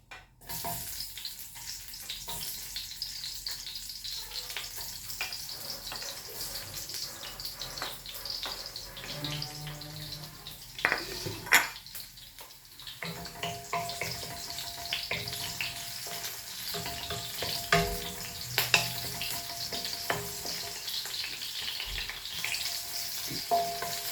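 Onions sizzle in a pan at the start of cooking ginataang langka, a fairly quiet continuous frying hiss with occasional spoon scrapes and clinks and no one speaking.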